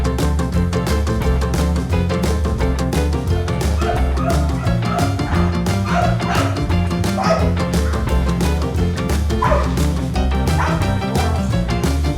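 Malinois dogs play indoors with repeated barks, yips and whimpers, loud and close over a constant busy background.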